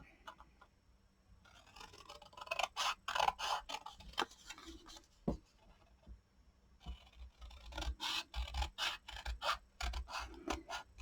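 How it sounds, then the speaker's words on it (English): Scissors snip through a paper stocking template in a series of sharp, close, quiet cuts, arriving in quick bursts with brief pauses between them. "Then we're going to want to cut out our stocking template."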